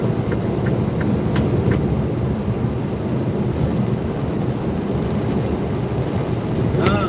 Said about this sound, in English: See, that's the storm I was talking about.